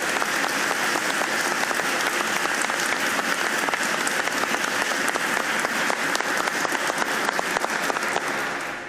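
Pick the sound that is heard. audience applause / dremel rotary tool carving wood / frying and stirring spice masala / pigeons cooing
audience applause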